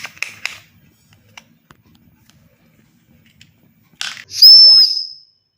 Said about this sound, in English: Green whistle.